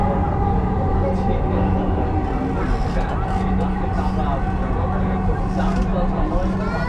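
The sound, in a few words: inside moving elevated metro train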